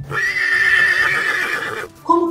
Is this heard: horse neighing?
yes